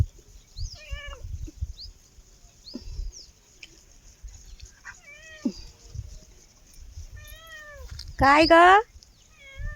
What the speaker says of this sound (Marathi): म्याव म्याव करती?